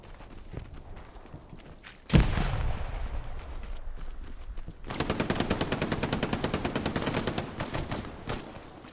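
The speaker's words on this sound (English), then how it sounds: "Mazziti with that lethal, brutal FG-42" Heavy automatic fire from an FG-42 rifle in the Hell Let Loose video game, a 49v49 competitive PC match: a sharp blast, then a long, rapid, evenly spaced burst of loud close shots with battlefield clatter around it.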